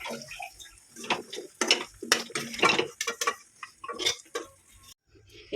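Chunks of goat meat dropped and pressed into a metal pressure cooker, a close series of clattering ticks and soft wet knocks of meat on steel, with faint water sounds and no talking.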